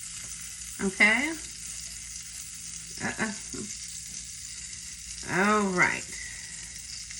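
French toast fries in melted butter in a pan with a soft, steady sizzling hiss throughout, while a nearby voice speaks a few brief words over it.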